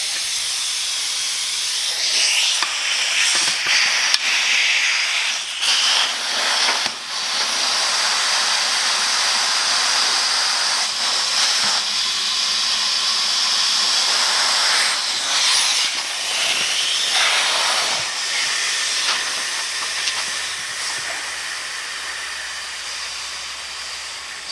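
Compressed air hose blasting a steady loud hiss into a tire to seat the bead, continuous for the whole stretch with slight fluctuations and no talk.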